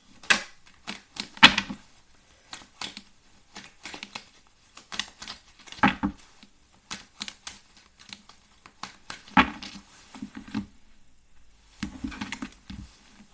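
Tarot cards shuffled by hand in repeated short crisp riffling bursts, close and fairly quiet, with brief pauses between bursts and no talking.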